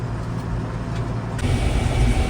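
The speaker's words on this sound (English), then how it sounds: "Back in the old combine rolling again" Combine harvester engine running in a corn field at harvest, a loud, steady low rumble that thickens and grows slightly heavier partway through as the machine pulls away, with no voices.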